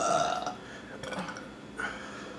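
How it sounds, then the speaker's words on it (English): Two or three loud, close burps with rough, drawn-out rasps, eaten during a Wendy's chicken BLT sandwich mukbang and burp challenge, spread across a couple of seconds with no talk over them. "I think I have to burp again."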